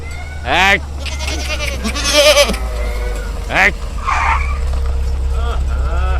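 Goats bleat several times in wavering cries, fairly close, over a steady low engine rumble with people talking nearby.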